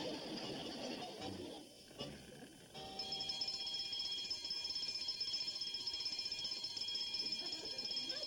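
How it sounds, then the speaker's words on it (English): A burglar alarm goes off in a hotel lobby as a steady, faint, high electronic tone that starts partway through and keeps sounding. Voices and room noise come first. "the alarm alerts us to the culprit that's trying to sneak in"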